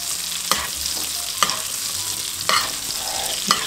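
King salmon frying in a pan while being basted with seasoned butter: a steady close sizzle, with regular spoon scrapes about once a second over the continuous frying hiss.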